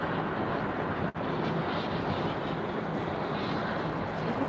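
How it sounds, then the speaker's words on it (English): An airplane flies overhead on a sunny day in Texas, a continuous broad, roaring rumble that stays steady and fairly loud throughout, with no talking. "sorry if you can hear the plane."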